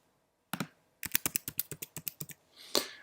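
Fingers type a name and password on a computer keyboard, a quick burst of about a dozen sharp, close key clicks in rapid rhythm, followed by a heavier final keystroke.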